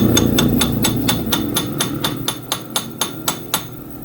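Sharp metallic hammer taps land in an even rhythm, about three per second, close and loud, with a low hum underneath, as a camshaft bearing is driven in on a Yamaha Sniper 155 motorcycle.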